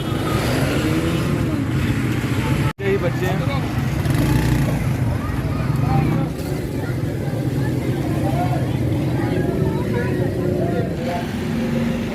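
Congested road traffic after school lets out: cars and motorbikes idle and creep along, engines rumbling with scattered horn-like tones, while people talk nearby over the steady din.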